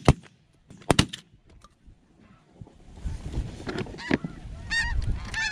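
Snow geese fly overhead in a flock, with several honking calls building toward the end over windy outdoor background noise and a few sharp knocks early on.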